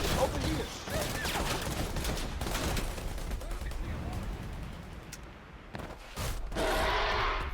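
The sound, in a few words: assault rifle gunfire in a video game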